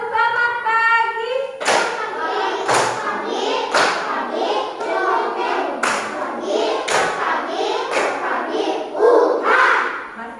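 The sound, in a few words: class clapping hands together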